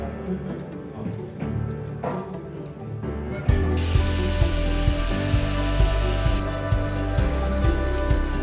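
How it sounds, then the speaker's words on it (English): Pressure washing bricks, a loud, steady hiss of spraying water that starts abruptly partway through and continues with scraping and knocking sounds underneath. "help Mario pressure wash some bricks"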